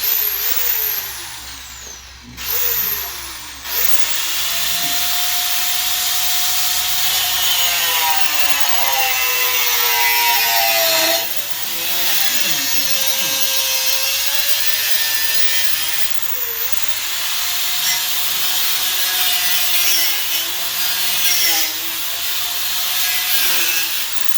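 Power tool making a vertical cut in a door, with a loud, continuous grinding whine that wavers in pitch as it bites along the line, briefly dipping at the start.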